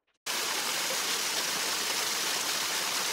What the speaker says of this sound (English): This is a waterfall, not a trail.